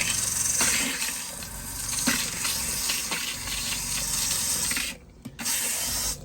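A bathroom faucet in an Arctic Fox 1150 truck camper sputters and hisses as trapped air and water spurt out unevenly during winterizing, with rough gushes, a brief cutout near the end, then flow resuming.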